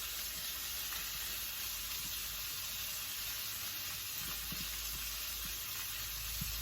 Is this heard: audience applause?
no